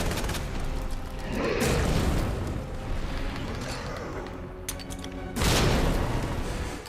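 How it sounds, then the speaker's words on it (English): Two heavy booming blasts, about four seconds apart, come from flash grenades going off in the Resident Evil 2 remake. Each one is loud and close, with a rumbling tail, over a low game background. "I'm going to throw a flash grenade"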